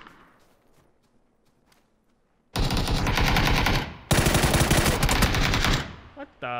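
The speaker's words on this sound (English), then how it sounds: "The guy shot the ground." Automatic gunfire in PUBG rings out after a quiet stretch: two long, loud, dense bursts of rapid shots close by, split by a brief gap, with faint ticking and footsteps beforehand.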